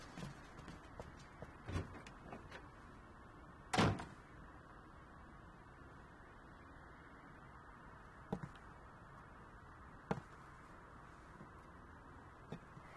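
A room door in a quiet interior, with one loud close thump near the middle and several faint clicks and knocks of handling before and after it, and no voices.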